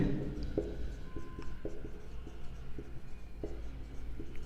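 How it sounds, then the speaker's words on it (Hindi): Chalk or marker scratching on a classroom board during a physics lesson, faint intermittent strokes and taps at close range, steady under a quiet room hum. "तो सबसे पहले हम लिखेंगे गॉस की प्रमेय से"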